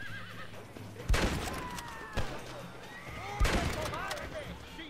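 A horse whinnies twice amid video-game Red Dead Redemption action, the neighs bright and rising, separated by a sharp thump, with faint background ambience and no talk over them.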